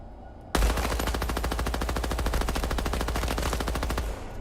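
Sustained automatic gunfire from a weapon in the Midnight Society video game, a rapid, even burst of roughly thirty shots lasting about three and a half seconds, loud and close with no talk.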